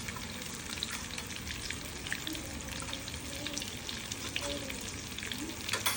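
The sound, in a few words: pumpkin and potato frying in pan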